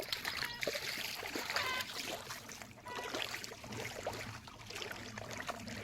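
Water sloshes and splashes in a steady rhythm as someone wades through knee-deep water on farmland, with soft trickling throughout and faint voices in the background.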